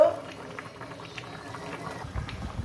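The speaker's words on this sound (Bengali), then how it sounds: "এবার মশলাটা কাঁচা গন্ধটা যাওয়ার জন্য আর একবার তরকারিটা ফুটিয়ে নেব" An okra curry bubbles in a pot, with soft irregular boiling blips over a low simmer and a slight rise in bubbling near the end.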